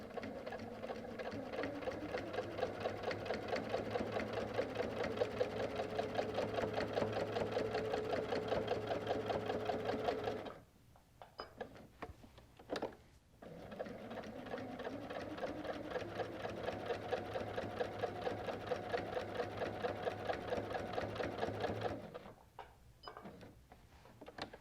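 A sewing machine quilts an all-border quilt with a close, steady, loud whir. It stops briefly around the middle, restarts, and halts again near the end.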